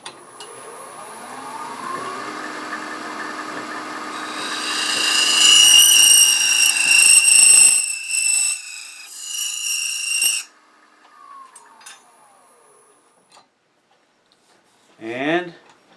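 A homemade chatter tool ground from a butter knife screeches against wood spinning on a lathe, giving a loud, shrill, ringing squeal that rises and then cuts off. A quieter screech follows later, and someone talks before the noise starts.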